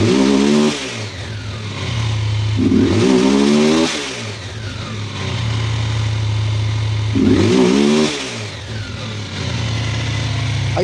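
An engine with a faulty spark plug is revved three times, each rise climbing from a steady idle rumble and falling back again, loud and close with no voices.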